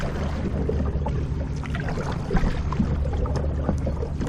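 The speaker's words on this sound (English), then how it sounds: "how does this boat paddle with the drive, and how does this boat paddle without the drive?" Paddle strokes and water wash around an Old Town Topwater 120 PDL kayak, a steady close churn of splashing and flowing water with occasional louder dips.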